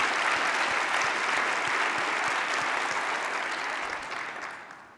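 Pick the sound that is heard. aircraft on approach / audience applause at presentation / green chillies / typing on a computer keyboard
audience applause at presentation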